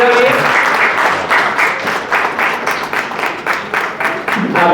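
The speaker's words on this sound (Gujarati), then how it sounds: "ખૂબ જ તાળીઓથી વધાવીએ" Loud, sustained applause from a farming workshop audience greeting an honoree, dense clapping that thins briefly into a rhythmic pattern before swelling again, with faint voices mixed underneath.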